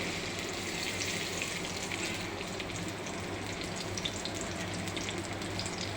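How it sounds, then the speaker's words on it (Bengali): Sliced onions fry in hot oil in a pan for a village-style chicken curry, giving a steady, even sizzle and crackle at moderate volume from start to finish. "এখন আমি তৈল দিয়ে দিলাম পেঁয়াজ দিয়ে দিলাম"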